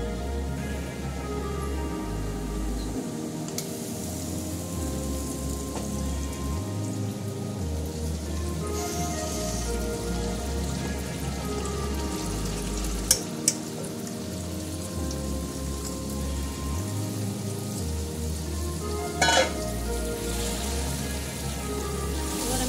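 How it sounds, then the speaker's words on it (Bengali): Marinated chicken pieces frying in a pan with whole spices such as bay leaves send up a continuous crackling sizzle, steady and fairly loud throughout, with a few sharper clinks and pops along the way. "ম্যারিনেট করা চিকেনটা এবার আমি এর মধ্যে দিয়ে দেবো।"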